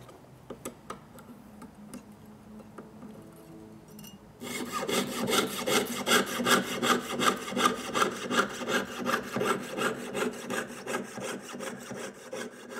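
A saw cuts metal in quick, steady back-and-forth strokes, close and continuous, after a few seconds of light ticking and scraping.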